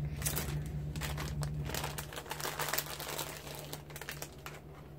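Plastic packaging for a set of crafting doilies crinkles and crackles continuously as it is cut open and unwrapped up close, with a steady low electrical hum underneath.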